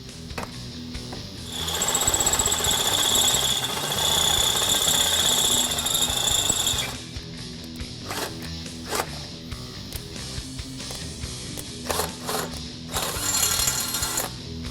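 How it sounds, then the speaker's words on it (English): A loud, steady power drill whines for several seconds drilling a 3/4-inch hole in a Ford Bronco's exhaust pipe, stops, then short bursts of drilling and clattering follow close by. "now we need to drill it out to 3/4 of an inch"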